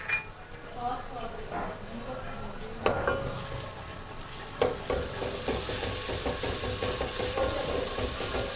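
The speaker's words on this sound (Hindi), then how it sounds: "प्याज को हल्का सा उसको फ्राई करना है।" Onion and garlic frying in a pan for a ridge gourd curry, a steady close sizzle that grows fuller partway through, with occasional stirring scrapes and knocks.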